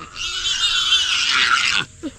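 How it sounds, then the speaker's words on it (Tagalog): A pig behind a house gives a long, loud squealing grunt lasting nearly two seconds, then a short follow-up cry, close to the microphone. "Ayun na yung baboy"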